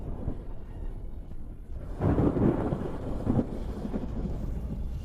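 Deep rolling thunder from a ninefold heavenly thunder tribulation in an anime, a low rumble that swells sharply about two seconds in and keeps grumbling loudly to the end, with no voices.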